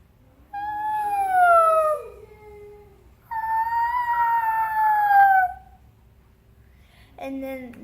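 A person's voice imitates a whale with long, wavering, tonal moans that slide downward, two drawn-out calls followed by a short third one, close and fairly loud over a low background hum.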